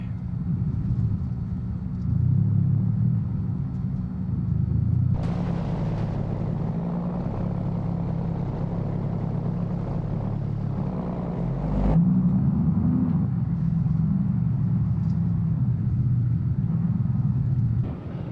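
A truck engine rumbles low and steady while towing, holding a continuous drone for the whole stretch, with a couple of brief surges and no talking.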